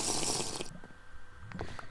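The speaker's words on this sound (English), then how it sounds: "Here's some safe water to drink." Water runs and splashes loudly in the Minez 2 video game, a bright gushing burst that cuts off abruptly after under a second, followed by faint scattered clicks and soft thuds.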